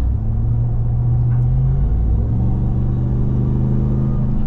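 A 2021 Ram 1500 TRX pickup with a 6.2-liter supercharged V8 accelerates under load, its exhaust giving a deep, steady rumble that stays loud and continuous throughout, heard from inside the cabin without talk.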